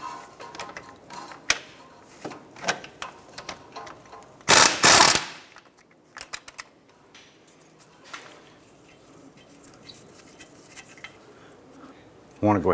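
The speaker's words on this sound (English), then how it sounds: "Using an 18mm swivel socket, I'm going to go ahead and remove the nut on our lower ball joint here." An 18mm swivel socket on a ratchet loosens the lower ball joint nut on a 2006-2013 Chevrolet Impala, heard as scattered metallic clicks and clanks with a loud burst of rapid ratcheting midway, close up.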